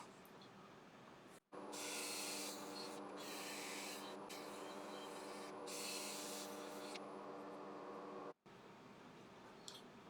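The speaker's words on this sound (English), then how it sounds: "So what I'm going to do now, guys, is I'm going to get the piece sanded" Sandpaper works a spinning live-edge woodturning on a lathe. It makes a loud, steady, hissing rasp in long stretches, broken by brief pauses, and no one talks.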